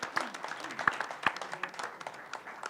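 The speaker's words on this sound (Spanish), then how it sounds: "el aplauso final es para ellos" Final applause from an audience in an auditorium, thin and uneven, with a few distinct, fairly quiet claps and a soft murmur underneath.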